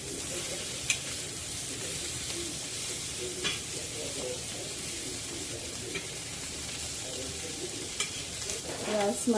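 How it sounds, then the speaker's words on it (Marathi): Prawns fry in a hot pan until golden brown, a steady broadband sizzle running throughout with occasional clinks and stirring scrapes, close and fairly loud, with no voices. "आता आपण पुन्हा हे मिक्स घेऊया छान असं गोल्डन ब्राऊन कलर येईपर्यंत यांना फ्राय करून घ्यायचं आहे"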